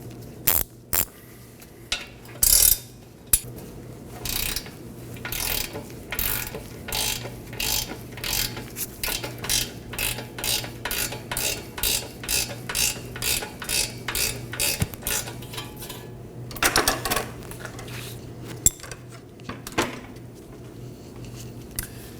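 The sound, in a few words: wrench removing a nut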